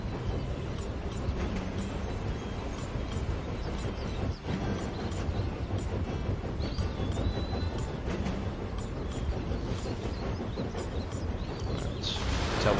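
A train runs in the video game Tiny Rails, a continuous dense rumble with rhythmic clatter and faint hissing, steady throughout with a brief dip midway and no talk.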